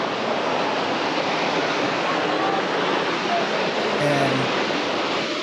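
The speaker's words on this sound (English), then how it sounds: "Look at that waterfall to the left." A waterfall in Yosemite National Park roars as a loud, steady broadband rush of falling water, with wind buffeting the microphone and no clear speech.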